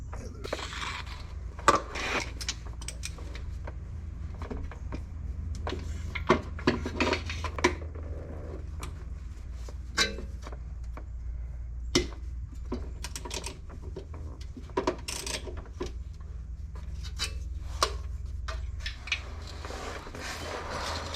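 Bolts being undone on a Nissan 370Z transmission, close metallic clicks, ratchet ticks and clatter of tools in irregular bursts over a low garage hum, with no talking.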